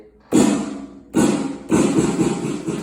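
Electronic drum kit hits routed through EZDrummer3 and an amplifier: three loud, full-bodied drum strikes, each ringing out briefly before the next, close and alone with no talk.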